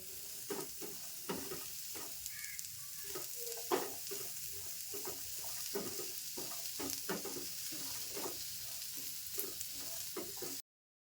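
Onion dry-roasts in a pan with no oil for a spicy egg masala gravy, a faint, steady crackle broken by regular close scraping strokes of a stirring spoon, with no talk.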